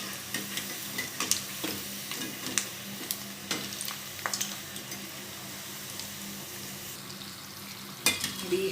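Butter chakli dough frying in hot oil, a steady close sizzle with scattered pops and crackles running throughout, a slightly louder burst near the end.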